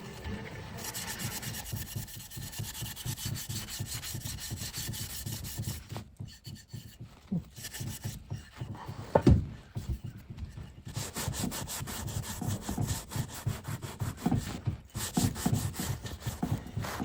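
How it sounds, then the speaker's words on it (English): A brush strokes paint onto the legs of an old wooden telephone table, producing steady rhythmic rubbing and scraping strokes up close, with a few brief pauses and one sharper knock partway through. "So I'm painting the legs on this"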